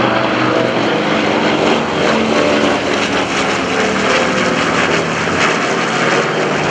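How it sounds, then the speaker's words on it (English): Propeller warbirds, an Avenger, a Corsair and a Skyraider, flying in formation overhead at a naval air station airshow, giving a loud, steady, broad engine roar that stays constant throughout. "The Avenger is going to be our lead ship. You've got the Corsair on the right wing"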